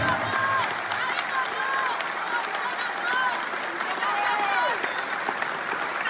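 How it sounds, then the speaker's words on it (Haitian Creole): A large crowd at a public gathering applauds loudly and continuously, with dense sustained clapping, a few cheers, and a voice speaking over the noise. "je vous demande de vous applaudir avec la plus grande puissance"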